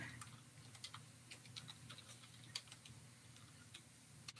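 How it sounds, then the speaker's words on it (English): Quiet, irregular key clicks of typing on a computer keyboard come in a loose patter over a low steady hum, with one slightly louder tap near the middle. "I'm actually typing a message to her now"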